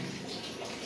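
Water splashes and pours steadily during a bath with cold water, a continuous broadband wash of sound that stays even and close throughout, with no voices.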